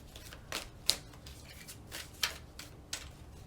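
A few quick crisp riffles of tarot cards being shuffled, short bursts spaced about a second apart, close by and fairly quiet.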